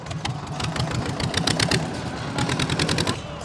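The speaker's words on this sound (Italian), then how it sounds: "siamo con Nicolas, adesso ci farà vedere la forza che avrà il suo trattore" A tractor engine runs loudly nearby with a rapid, pulsing clatter of regular firing beats that holds steady throughout, with no voices over it.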